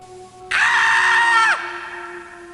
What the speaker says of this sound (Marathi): आणि हे दोघेही जोरजोरात ओरडू लागले